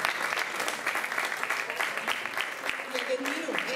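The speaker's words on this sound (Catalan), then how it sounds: "un gran i fort aplaudiment per a aquestes nines que m'han ajudat" Warm applause from an audience at a Japanese storytelling session, steady clapping for a few seconds with a voice briefly heard near the end.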